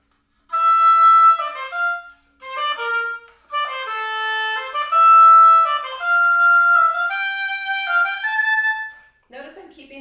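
A solo oboe plays a technical concert band etude, with a triplet figure reshaped so the second and third notes rush toward the next note. Short articulated phrases are separated by brief pauses, close and clear, with no talking.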